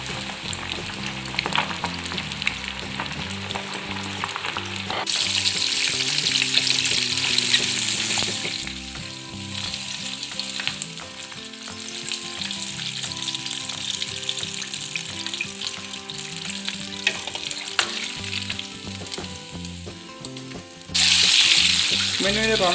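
Chicken wings deep-frying in hot oil make a dense, loud, continuous crackling sizzle close up, briefly surging louder near the end, with a voice faintly underneath at times.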